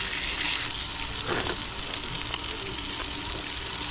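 Water gushes from a tap in a steady, loud rushing stream that holds constant throughout, close by with no voices over it.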